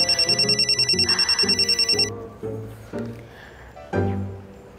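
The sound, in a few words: telephone ringing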